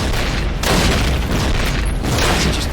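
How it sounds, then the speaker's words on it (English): A grenade explodes in a Call of Duty match as one loud, close boom that swells after a brief build and holds as dense rumbling noise for the rest of the moment. No voices are heard over it. "Just accepting damage from that nade"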